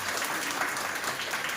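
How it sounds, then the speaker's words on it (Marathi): Audience applause at a residential apartment gathering on LPG gas safety, a steady wash of clapping hands throughout, fairly even in loudness with no break. "आता कार्यक्रम जर आवडला असेल तर टाळ्या वाजवा"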